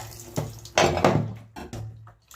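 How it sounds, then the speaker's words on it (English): Tap water splashes intermittently while chicken is washed under it, with several sharp gushes and spatters in a sink over a couple of seconds, close by and moderately loud. "Running water and chicken."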